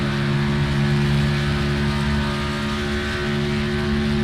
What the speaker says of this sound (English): You can hear him feather that throttle.